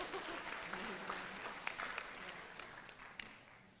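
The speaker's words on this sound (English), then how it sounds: "Let's give her a big round of applause." Audience applause at a school board meeting, a dense wash of clapping from a seated crowd that holds steadily throughout, moderately distant, with a voice faintly beneath it.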